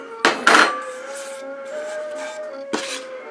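Nails pulled out of wood: two sharp metallic scrapes and creaks close together near the start, a lingering tonal squeal, then another short scrape near the end.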